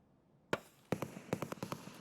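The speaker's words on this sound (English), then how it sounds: "Okay, they're shooting down here." Gunfire in Escape from Tarkov, one sharp shot followed by a rapid uneven string of cracks, moderately distant and fairly quiet, with no talk.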